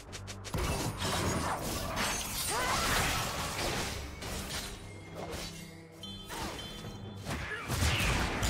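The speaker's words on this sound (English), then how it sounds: "Team's turret has been destroyed." A turret is destroyed in League of Legends, with a loud mechanical crash of shattering, grinding and creaking debris over dense game noise and ongoing combat effects.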